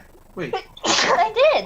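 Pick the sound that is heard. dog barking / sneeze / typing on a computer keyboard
sneeze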